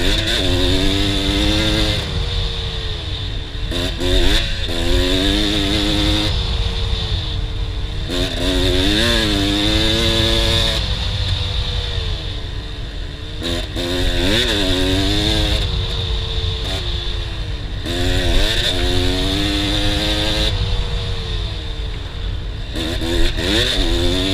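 A dirt bike engine screams through a race lap at Farm Jam, loud and close, rising and falling in repeated revving bursts as the throttle opens and shuts between gear changes.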